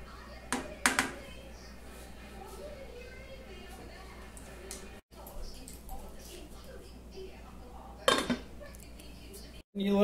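Hamburger Helper Southwest-style pasta stirred in a pan, with faint scraping and a few sharp clinks of a utensil against the pan at quiet intervals.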